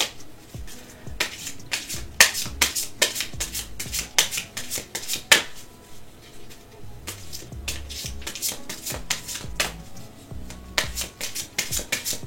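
Jane Austen oracle cards being shuffled by hand, with close, crisp riffling and slapping bursts that repeat irregularly throughout and no talking.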